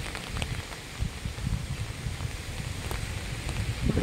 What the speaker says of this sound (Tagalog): Oh, pabugso ang hangin, malakas na hangin.